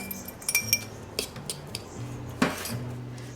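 A utensil clinks and scrapes against a bowl as tomato and cilantro go into guacamole, giving a few light, close taps and clatters spread across a few seconds.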